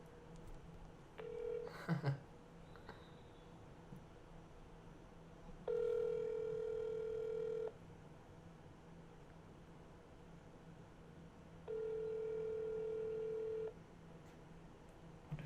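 A telephone call placed and ringing: a brief burst of dialling tones near the start, then two long, steady ringback tones separated by a pause, heard over a quiet hiss.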